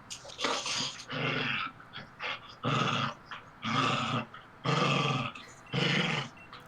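A dog growls and snarls in repeated rough bursts while tugging at its favorite toy in a game of tug of war, each growl long and loud with short pauses between, close by and with no talking.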